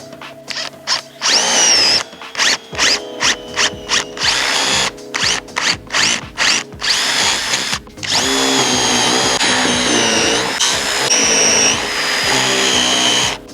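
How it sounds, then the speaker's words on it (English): An electric drill with a brad point bit whirs in a series of short pulsing bursts, then runs continuously at high speed, loud and close. "it's a brad point drill bit"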